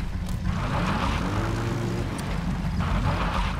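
A support helicopter arrives in Metal Gear Solid V: The Phantom Pain, its steady engine and rotor drone rumbling loudly and continuously, with a rising whine sweeping through as it approaches.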